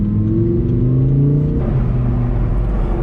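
A car accelerates onto a freeway entrance ramp, its engine note rising steadily in pitch and then dropping after a gear change, loud and close with a constant road-noise bed and no voices.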